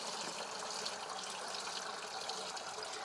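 Water drains through a standard number 30 sieve with 600 micron mesh, a steady faint hiss and trickle with no pauses or voices.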